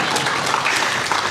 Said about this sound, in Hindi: कोई नहीं, ताली बजा लीजिए।